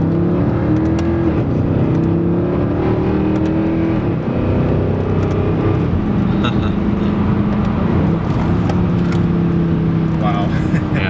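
A 2011 Mercedes C63 AMG engine under acceleration heard from inside the car, a steady droning note that climbs and falls slightly in pitch, with people talking over it.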